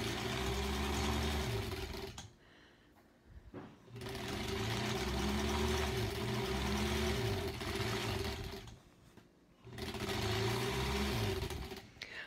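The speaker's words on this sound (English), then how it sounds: "I love this sewing machine. It just sounds like a lawnmower." A sewing machine stitches fabric for a quilt block in three loud, close bursts of fast, steady whirring, separated by short pauses where the motor stops.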